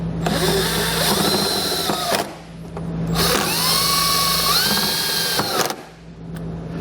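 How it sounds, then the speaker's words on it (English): A 5/16 nut driver on a power tool drives self-tapping screws into a panel while a Roadmaster battery charge line kit is fitted for a towed vehicle. Two long, loud whirring runs, one dropping in pitch, are separated by short pauses, with a brief restart at the end. "I'm going to take the self-tapping screws that come in your kit and a 5/16 nut driver and just drive them right into that panel."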